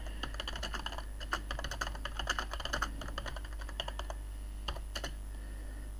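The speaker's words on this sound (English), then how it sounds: "Because I'm typing it out every time." Rapid, uneven typing on a computer keyboard while writing a raid message, with a steady flurry of close key clicks, a few louder isolated strikes near the end, and a low hum underneath.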